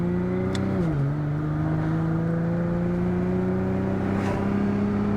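An 1100 hp, 9000 rpm all-wheel-drive Nissan Skyline GT-R with an 8-speed street transmission drones under load, drops pitch in one quick gear shift, then climbs steadily again, loud and close from inside.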